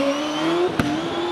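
A hill climb race car at Prescott with a rear-mounted 2.6-litre IndyCar NME engine screams at high revs in a steady, close whine, broken by a brief sharp crack midway.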